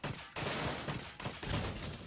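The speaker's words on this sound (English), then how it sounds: "Turns out shotguns shred them too." Shotgun fire in Call of Duty: Mobile: a few loud, rough blasts in quick succession, each a short broadband burst with a ragged tail, close and busy.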